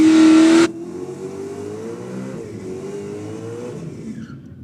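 A drag race car at Sydney Dragway accelerates away down the strip, a loud roar cutting off abruptly, then the engine note rising steadily into the distance.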